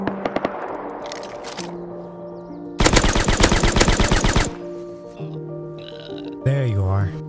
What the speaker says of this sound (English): Continued to follow the trail of shots.